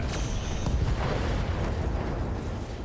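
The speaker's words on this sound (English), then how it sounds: "LRM ammo explosion, it did have case" A dull, rumbling blast as LRM ammunition detonates inside a Hunchback mech in RogueTech, a broad sustained roar with faint high beeping tones over it, no voices.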